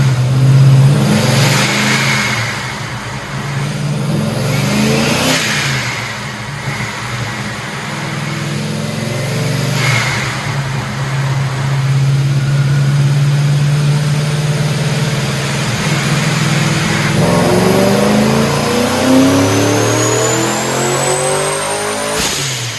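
Pontiac GTO fitted with a TorqStorm supercharger and an LS3 V8, revving hard and loud close by, with repeated throttle blips surging over a rumbling idle and a rising supercharger whine toward the end.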